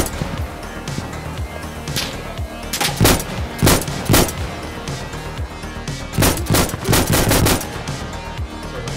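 Gunfire in the video game Insurgency Sandstorm, loud rapid automatic bursts and single shots cracking in irregular clusters throughout, with no talk.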